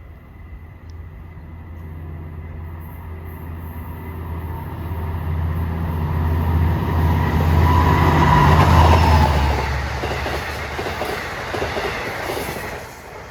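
A Long Island Rail Road commuter train passes on triple track, its rumble swelling from a low drone to a loud roar with clickety-clack wheel noise and fading again, alone with no voices.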